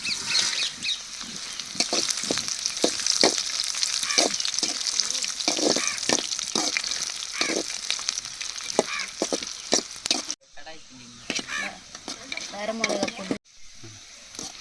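Thirty dried red chillies fry in oil with golden garlic for a village-style chicken curry, a loud continuous crackling sizzle with frequent stirring scrapes, and a voice talking briefly toward the end.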